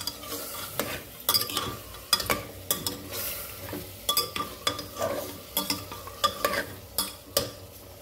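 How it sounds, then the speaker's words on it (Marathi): Mutton pieces and tomatoes cook in a pan while being stirred, giving repeated rhythmic scrapes and clacks of a spoon over a steady frying sizzle, all close and loud. "टमाटर टाकले आणि मटण बी टाकलं. आता पूर्णपणे हलवून घेऊ आता आपण."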